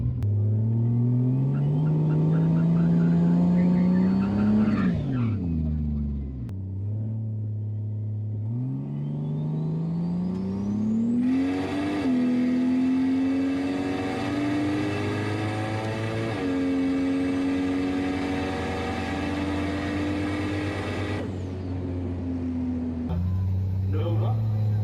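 A Toyota Supra MK3 with a swapped 2JZ engine pulls hard down a race track, engine note rising through the revs, dropping at a shift near five seconds, then climbing again and holding a loud, buzzing high-rpm drone before easing off.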